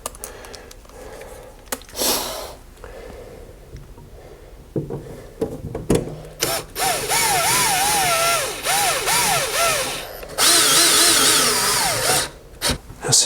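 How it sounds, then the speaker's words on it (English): A power drill drives securing screws into a heat exchanger in several whirring bursts of rising and falling pitch, separated by short pauses, with clicks and handling noise between them. "Put these two securing screws in."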